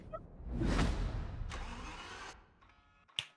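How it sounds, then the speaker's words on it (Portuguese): A car engine cranks and catches in Forza Horizon, a rising whirring burst followed by a settling idle that cuts off, ending with a sharp click. "Deixa eu ligar o carro pra ver se tem"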